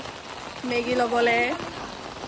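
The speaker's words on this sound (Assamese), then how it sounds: "বাহিৰত গোটেইখন বৰষুণ দি আছে আজি" Steady rain hisses throughout, and a single voice speaks briefly over the downpour.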